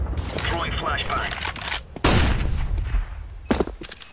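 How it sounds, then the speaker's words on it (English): A flashbang grenade goes off during a tactical shooter match, one sharp burst amid gunfire-like thumps and booms, with players talking over the noisy game action. "Throwing flashbang."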